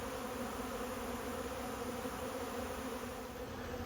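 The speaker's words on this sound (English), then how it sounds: "I'll send you out with a view of the bees robbing the frames." Honey bees robbing and cleaning up wet honey frames set back out after extraction, a steady dense buzzing swarm drone that continues unbroken throughout, moderately loud and close, with no talking.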